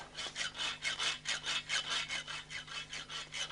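Steady back-and-forth strokes of a hand saw cutting wood, about three or four strokes per second, close and continuous with no voices.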